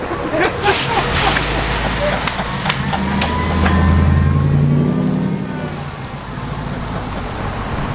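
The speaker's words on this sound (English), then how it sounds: "Hey, listen to this exhaust, guys. Listen to this exhaust. Rev it!" A car engine revs up and settles, its exhaust rumbling loudly nearby while people shout and talk over it.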